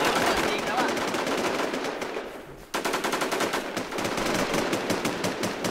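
Rapid automatic gunfire in the Infestation shooter game, with sustained bursts of close, loud shots, a brief pause, then more fire, with a voice talking over it.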